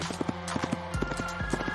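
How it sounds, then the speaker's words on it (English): A horse galloping at full speed, its hooves pounding in a quick, steady drumming rhythm, close and fairly loud with no talking over it. "Branches whipped at his face as his horse galloped at full speed to their rendezvous location."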